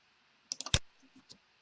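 A computer mouse giving a quick cluster of close, crisp clicks, followed by a few fainter taps in an otherwise quiet room.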